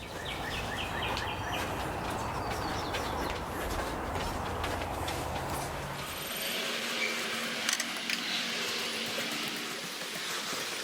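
A bird, likely a pigeon or dove, calls repeatedly on a front porch while trying to build its nest; the calls are faint and sit under a steady broadband outdoor background.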